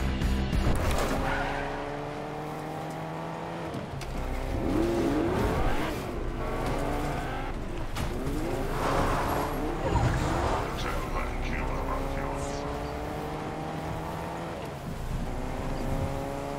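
Race car engine droning and shifting pitch in a driving video game, with repeated rising and falling revs and a few tire-skid squeals across a long steady stretch, under intermittent talk.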